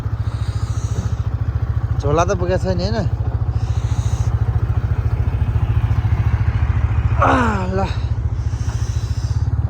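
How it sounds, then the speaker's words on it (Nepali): Yamaha MT-15 motorcycle engine idling with a steady, close, pulsing low thrum and a rider's voice speaking over it twice, a faint rattle coming through now and then. "बाइक स्टार्ट भइसक्यो"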